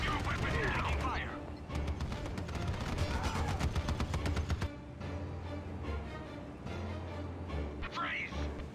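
Rapid automatic gunfire bursts in the video game Act of War: High Treason during a prisoner-capture mission, dense crackling volleys mixed with mechanical clatter and game voices.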